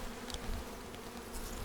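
Honeybees buzz close on a brood frame pulled from a hive, a dense steady drone with overlapping wingbeats.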